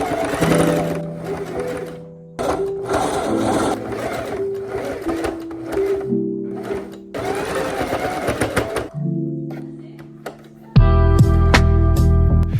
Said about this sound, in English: and now you're just gonna sew it together.